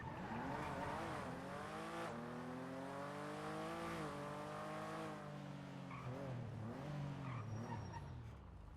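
Several cars idling and revving together as they line up for an illegal street race at an airfield gate in the NoPixel GTA roleplay game, steady engine drone with rising and falling rev sweeps, loud and continuous.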